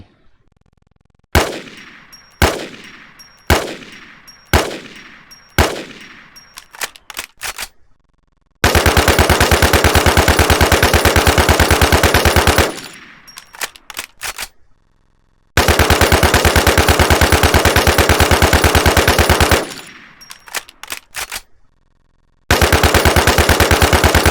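Gunfire from a weapon in the video game Garena Free Fire: several loud single shots with ringing decay, followed by long, dense bursts of automatic fire separated by short silences.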